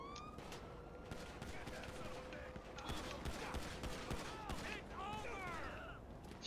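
Rapid gunfire rings out in a GTA 5 gang shootout played with the LSPDFR police mod: dense, overlapping bursts of shots at a low overall level, with a voice talking over the fire.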